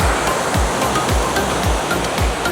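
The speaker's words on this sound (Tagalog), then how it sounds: "May waterfalls din dito." Waterfall at Wulai, Taiwan, a dense, steady roar of falling water heard close and loud, with soft thumping rumbles pulsing underneath at regular intervals.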